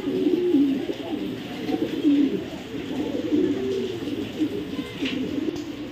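Pigeons at a pigeon seller's give repeated low, rolling coos at close range, a continuous murmuring rhythm for several seconds with no talk.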